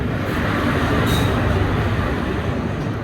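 A train at a railway station makes a loud, steady rumble that fills the whole stretch, with a brief brighter hiss near the middle and no talk.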